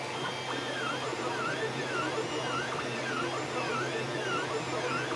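A Creality Ender 2 3D printer runs steadily while printing, its stepper motors giving a continuous whirring hum with repeating rising and falling tonal sweeps, fairly quiet and close, with no voices.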